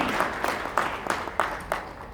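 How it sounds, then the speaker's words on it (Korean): Audience at a Korean child welfare association's 70th anniversary ceremony clapping; fairly faint, sparse-sounding applause with several distinct louder claps standing out over a soft wash. "다시 한번 뜨거운 박수 부탁드리겠습니다"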